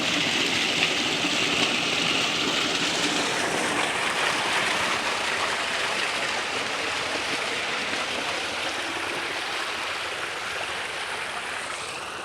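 Water gushes from a solar-powered submersible borewell pump at full pressure, a constant broad rushing and splashing that stays steady and loud for the whole stretch, with no voices.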